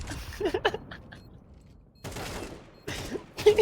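Gunfire in Counter-Strike 2: short clustered bursts of shots separated by quiet gaps, moderately loud, with no talk over them.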